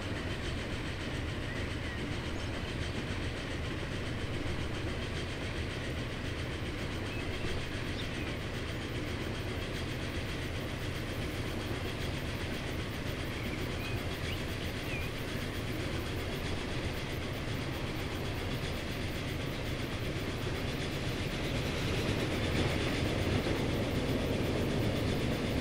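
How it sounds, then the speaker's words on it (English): A freight train running in the video game Transport Fever, a steady, continuous rolling rumble with rhythmic wheel clatter. It holds at an even level throughout and swells slightly near the end. No voices are heard. "Another freight train coming in."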